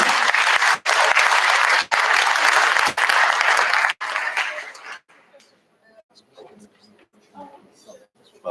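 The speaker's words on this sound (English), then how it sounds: "Give a big round of applause" Conference audience at a digital society event claps in a loud, full burst of applause, broken by a few abrupt cuts, before it stops and quiet speaking takes over.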